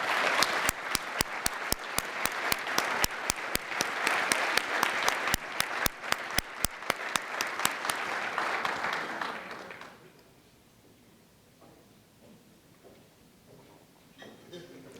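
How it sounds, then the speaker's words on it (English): An audience applauds the Governor at a morning event, sustained clapping with loud, sharp individual claps up front for about ten seconds before it drops away to a quiet room with faint voices. "join me in applauding Her Excellency, the Governor, Mrs. Helen Kilpatrick"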